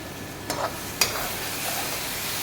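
Tadka tempering for aloo baingan sizzles steadily in a pan, with two sharp scrapes of a spoon stirring against the metal over the continuous hiss.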